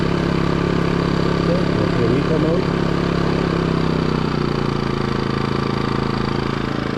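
A Westinghouse iGen2550DFc dual-fuel portable generator runs steadily nearby with a constant engine drone and hum that eases slightly in pitch as a person talks over it.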